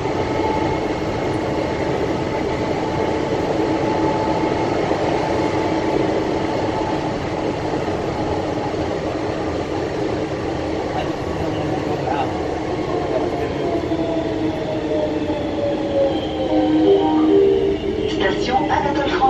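French metro train ride near Anatole France station, a steady loud rumble of the carriage with rail noise throughout and rising wheel squeal near the end, some faint voices in the background.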